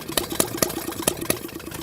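An old engine burning oil through its ignition runs steadily with a whistle pipe on the exhaust, giving a loud, close chug of regularly spaced firing pulses with a slightly uneven rhythm.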